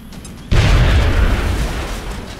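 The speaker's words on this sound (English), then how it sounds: "I'm going to toss a grenade" A grenade detonates in the video game XCOM: Enemy Unknown, one sudden loud deep boom after a brief quiet lead-in, followed by a rumbling roar that slowly fades.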